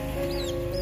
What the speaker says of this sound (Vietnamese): Có mấy con bé bé đuôi nhỏ kia là gà Thái